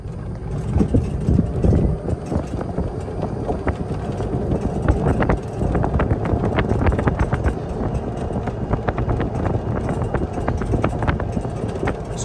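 A 2010 Club Car Precedent golf cart runs at its top speed of about 16 mph, giving a steady, rough motor drone with road and wind rumble and scattered rattles throughout.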